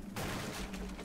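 A single sharp gunshot goes off in the Rainbow Six Siege video game, a sudden loud crack with a brief ringing tail inside a very short clip.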